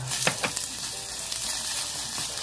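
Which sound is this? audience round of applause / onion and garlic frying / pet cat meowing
onion and garlic frying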